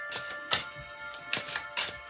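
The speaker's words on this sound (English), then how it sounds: "give them a little shuffle" A deck of cards is shuffled up close, with a few quiet, crisp riffling bursts and taps spaced across a short, faint stretch.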